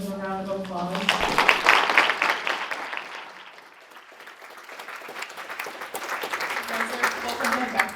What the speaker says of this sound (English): If we can give them a round of applause